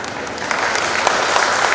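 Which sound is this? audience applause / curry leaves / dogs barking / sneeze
audience applause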